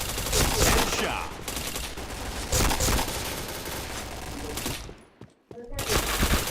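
Dense, loud automatic gunfire from the online shooter Point Blank, a Viper rifle firing sustained rapid bursts that cut out briefly near the end before more shots follow.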